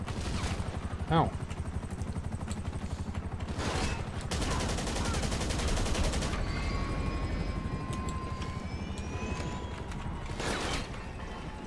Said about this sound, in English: Fine, give me the heavy rifle.